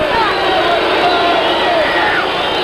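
A 1984 basketball arena crowd voicing disapproval of a foul call, a loud sustained roar of boos and shouting that fills the whole moment without letting up.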